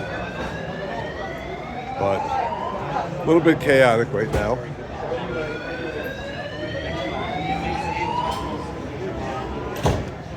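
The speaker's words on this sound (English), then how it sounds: "it's Sunday morning, day 3 of the fest, and we got a fire alarm going on" A wailing fire alarm siren at a festival venue sweeps up and down continuously, loud and persistent, while a person talks over it.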